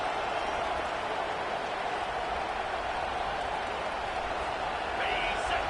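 A home crowd at a football game roars on third down, a dense, sustained wash of cheering and noise at steady volume throughout.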